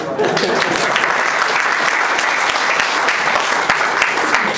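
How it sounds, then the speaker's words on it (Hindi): Steady, loud audience applause at a farewell-day event after a joke in a comic speech, a continuous even roar of clapping with occasional sharper claps throughout. "ताली जोरदार मारी जाए।"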